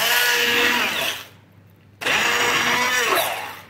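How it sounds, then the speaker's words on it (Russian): A kitchen blender purees cottage cheese for a pie in two loud whirring bursts, the motor dropping away for half a second between them before surging back at full strength, with no one speaking. "Теперь это нужно пробить блендером."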